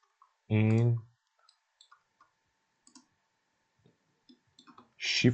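A computer mouse gives a few sharp single clicks, spaced irregularly and near, under someone speaking Persian while he works in Aspire CAM software setting up toolpaths and G-code.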